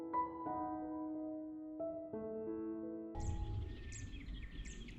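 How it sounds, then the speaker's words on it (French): A zitting cisticola calls near the Scamandre pond in the Camargue, giving sharp, high, evenly spaced chirps in the second half. Sustained tonal sounds come before the calls, and an outdoor rumble sits underneath them. "C'est un cisticole des joncs."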